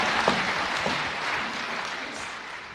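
A church congregation applauds the Lord during a Kenyan sermon, a dense, steady wash of many hands clapping at once that fills the room and tapers slightly toward the end.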